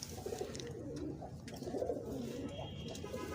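Pigeons coo softly in low, repeated throaty murmurs, fairly faint against a steady background hum.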